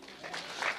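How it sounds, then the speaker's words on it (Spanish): Applause rises from a church congregation during a service, a short diffuse patter of many hands at moderate level that swells slightly toward the end. "Denle un aplauso al Señor, amén."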